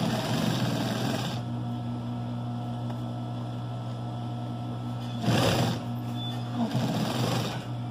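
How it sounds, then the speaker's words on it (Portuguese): Sewing machine stitching around the edge of a rug made from knitted fabric strips, a steady droning motor hum that runs throughout, with brief louder bursts partway through. "Costurar aqui em volta, fechando ele como se estivesse fechando um saco."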